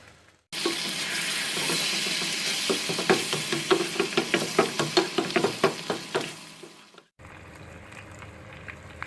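Pizza sauce and cooked chicken sizzle loudly in a pan while a spoon knocks and scrapes in a quick rhythmic run of stirs, then the sizzle drops off abruptly and leaves only faint background noise.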